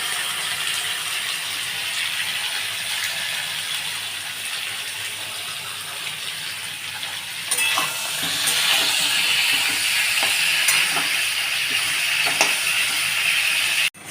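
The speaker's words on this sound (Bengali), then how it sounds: "বেগুনগুলো একটু ভাজা হবে ভালোভাবে" Eggplant slices frying in oil in a home kitchen, a steady bright hiss throughout that thickens and grows louder partway through, with a few faint clicks and rattles.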